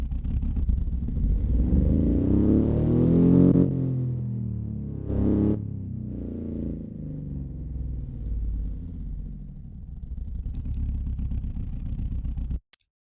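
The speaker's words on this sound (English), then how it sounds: "Boxers sound so interesting." A boxer engine in the Automation car-building game revs up with a deep rumble that climbs in pitch, drops off, gives a short second blip, then idles low before cutting out abruptly.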